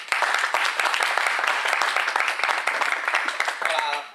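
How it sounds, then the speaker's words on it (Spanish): Listeners at a book presentation in Casa Granada, Spain, give a sustained round of clapping, dense and fairly close, ending abruptly after about four seconds. "Pues un aplauso para Héctor."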